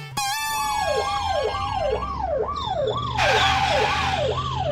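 An ambulance siren wails close and loud in a rising-falling yelp repeated about eight times, with a second horn tone joining partway through, over low vehicle rumble.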